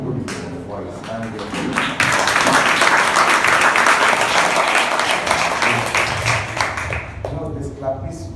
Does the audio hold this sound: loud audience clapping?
yes